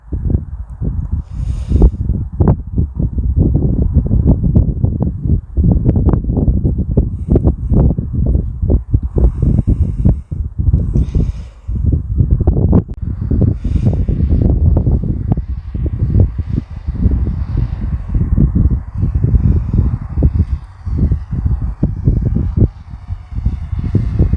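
Strong wind buffets the microphone of a small camera drone flying into the wind, in loud, gusty low rumbles that continue without a break.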